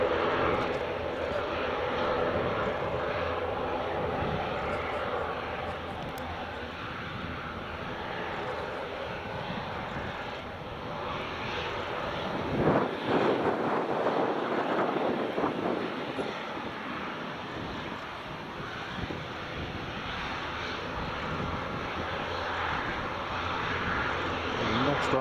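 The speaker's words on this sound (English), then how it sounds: "So yeah, Lingus just taxiing out." An Aer Lingus airliner taxis out at Edinburgh Airport with a continuous jet-engine whine and rumble, heard from a moderate distance, swelling briefly near the middle, with voices at times in the background.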